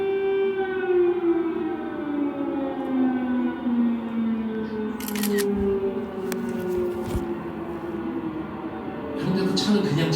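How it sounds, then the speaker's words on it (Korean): An air raid siren in Kyiv, Ukraine wails in long rising and falling sweeps over a city square, playing back from a video, with a few sharp clicks and faint traffic beneath. "우크라이나 키이우에 공습 경보가 울립니다."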